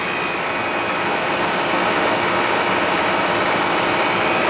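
An air conditioning system's compressor, once shorted to ground, runs after repair as a loud, steady, close whooshing hum with no break.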